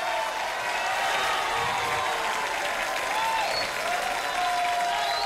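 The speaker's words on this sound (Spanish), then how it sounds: "a quien le pido un fuerte aplauso para él" A studio audience applauds the mayor of Lima, Rafael López Aliaga, with dense, sustained clapping heard up close that stays steady for several seconds, plus faint crowd murmur.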